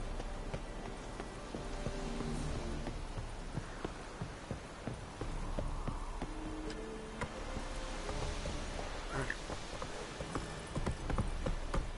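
Roach the horse's hooves clop steadily in The Witcher 3 video game, a rhythmic trot running through the whole stretch over a busy game soundscape with music and ambience.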